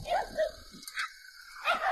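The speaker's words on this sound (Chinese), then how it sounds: "原来这小狗冲主人也叫唤呢" A small dog barks in quick, sharp yaps at close range in a snowbound mountain village, a short burst, a pause, then more barks.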